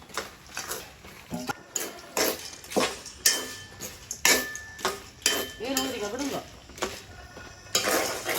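Peanuts dry-roasting in a pan, stirred with repeated scraping and clattering strokes at close range, with occasional voices and other household sounds in the background.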